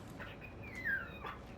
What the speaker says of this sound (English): Your dog sounds like Velociraptors from Jurassic Park, man.